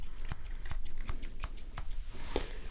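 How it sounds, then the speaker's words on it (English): Crisp scissor snips trim hair during a calm ASMR haircut, about eight evenly spaced cuts close to the ear, each a short bright click with soft rustle between, and no talking. "let me just pull this back and I'll start trimming here for you"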